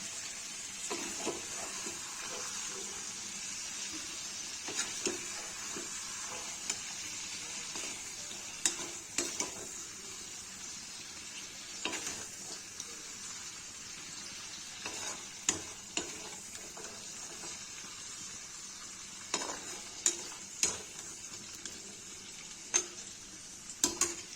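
Goat liver frying in a pan, a steady faint sizzle with scattered sharp clicks and scrapes of a spoon stirring against the pan, close by and without any talking.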